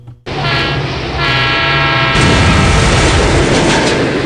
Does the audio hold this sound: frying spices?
no